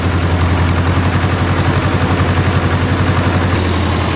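An old Massey Ferguson 50 digger's diesel engine runs loud and close, a steady low rhythmic idle chugging evenly throughout with no voices.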